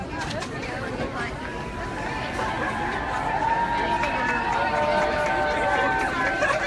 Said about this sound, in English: I'm just going to try to give you a little bit of a panning of what the crowd is over here.